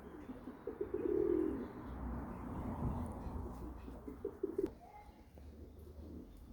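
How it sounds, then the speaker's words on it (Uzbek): Pigeons cooing in a loft, soft low repeated coos fairly close amid faint rustling and ambient background, with a few quieter calls later. "Kaptarlar, juvonalar vahshiy ko'tarilib ketdi."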